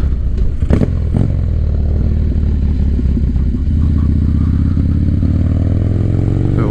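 A 1985 Harley-Davidson FXR motorcycle is ridden, its engine droning loud and close with a rising rev and some clattering rattles early on, with wind and road noise throughout.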